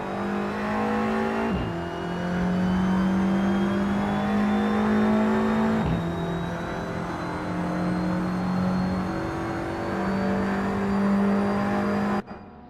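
Audi TT Cup race car in Assetto Corsa lapping Paul Ricard GP, its engine droning steadily and loud with rising pitch through the gears, two sharp upshift breaks and a brief cut near the end.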